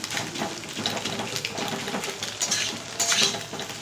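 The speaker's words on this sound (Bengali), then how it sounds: "এখন সুন্দর করে ডিমের সাথে পেঁয়াজটা ভেজে নেব।" Chopped onion frying with egg in a pan for homemade chow mein, a steady broadband sizzle with light scraping and clinking of utensils throughout, close and moderately loud, no voices.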